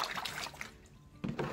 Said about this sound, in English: Actually, I will pour a little bit more.